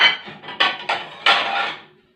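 Ceramic plates and dishes stacked one on another in a home kitchen while a dishwasher is unloaded: four close, sharp clattering knocks at uneven intervals, each ringing off briefly, with no talking.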